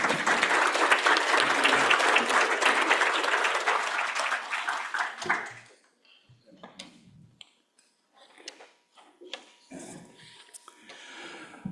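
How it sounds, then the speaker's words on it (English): An audience at a weekly meeting gives a round of applause, dense clapping for about five seconds that fades out, followed by scattered room noise, light clatter and faint talk. "So let's give them a round of applause."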